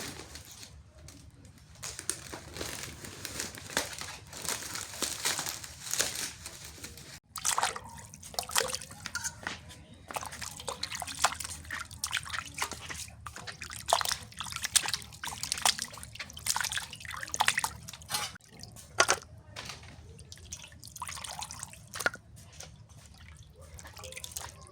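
Cut goat mutton being rinsed with water in a village kitchen, with steady splashing, dripping and trickling close by throughout, broken by brief pauses and faint birdsong in the background.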